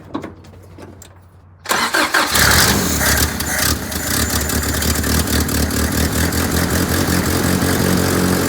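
An old car engine with fuel poured into its carburetor cranks briefly, then fires and catches, running loud and rough close by with no talking.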